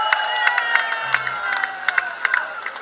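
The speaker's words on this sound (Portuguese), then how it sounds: "Uma salva de palmas." A crowd at a São Roque festival in Madeira cheers and murmurs in a steady wash of voices, with scattered sharp claps and shouts standing out throughout.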